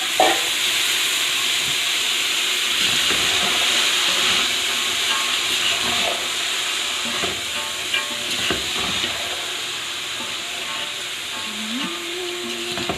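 Julienned capsicum, shredded cabbage and peas hit a hot pan, giving a steady loud hiss of frying that fills the whole stretch, with occasional clatters and scrapes for Chinese fried rice.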